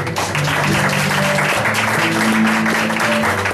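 Mothers in a church congregation applaud the Lord at a Sunday prayer gathering in Gatineau. The clapping is a loud, dense, continuous wash that blends with sustained musical tones underneath.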